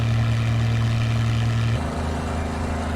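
Droning radial propeller engine of a World War 2 P-40B Tomahawk in Microsoft Flight Simulator hums steadily with a strong low tone, then shifts pitch partway through as the engine note changes.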